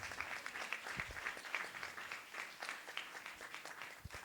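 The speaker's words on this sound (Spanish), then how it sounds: "pedir un aplauso para todos ellos" Audience applause at an authors' meeting in Algete, a steady crowd clapping throughout with dense, even hand claps at moderate distance and no speech.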